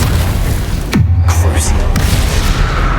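A Confringo fire spell in Hogwarts Legacy goes off with a single loud, close boom and a downward-sweeping whoosh, trailed by a low rumble, with game ambience around it.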